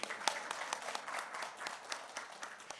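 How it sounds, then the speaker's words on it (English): Faint applause rises from the audience at the Invest Kerala Global Summit country session, with scattered handclaps heard at a distance. "A round of applause for everyone"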